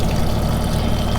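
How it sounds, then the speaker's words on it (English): A generator set engine runs nearby, a loud, steady low rumble with an even idling throb and no pauses. "the genset's running"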